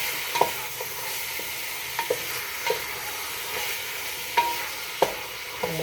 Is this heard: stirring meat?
yes